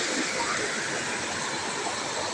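A river in Sumilao, Bukidnon rushes in a steady, broadband roar, close and continuous throughout, with no voices and no breaks in the flow.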